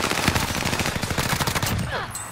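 Fast automatic gunfire in Call of Duty: Modern Warfare, a dense rattling burst of close, loud shots lasting about two seconds before trailing off.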